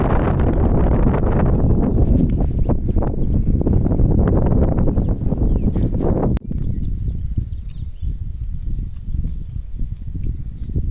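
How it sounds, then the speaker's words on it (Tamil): Wind blows steadily over a mud road in open country, a loud, rough rumble buffeting the microphone that eases somewhat partway through but keeps going to the end. "காற்றடிக்குது."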